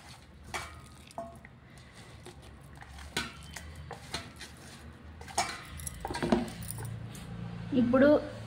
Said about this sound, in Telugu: ఈ పేస్ట్ని కొద్దిగా కలుపుతూ ఉండాలి.